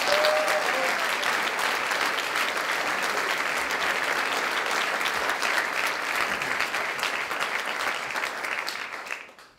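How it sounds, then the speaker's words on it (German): Sustained audience applause at a film premiere in 2013, a full, steady roar of clapping that carries on for several seconds before quickly fading out at the end. "Geben Sie uns aber auch Applaus für unsere Technik, Licht und Ton, die Barbara Langmann"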